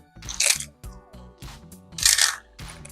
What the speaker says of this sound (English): Crunch up some bacon.